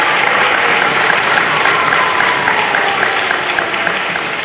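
Loud, continuous applause fills the room from an audience at an elementary school Veterans Day program, a dense wash of clapping holding steady from start to finish.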